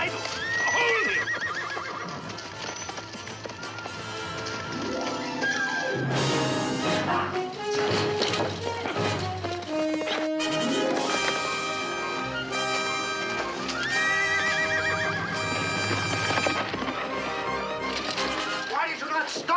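A horse gives a loud, drawn-out whinny and neighs again, with hoofbeats as it breaks away, under a full dramatic music score and shouting voices in a period film scene.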